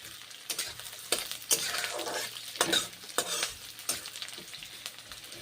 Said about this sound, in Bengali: নেড়ে চেড়ে ভেজে নিচ্ছি পেঁয়াজ রসুন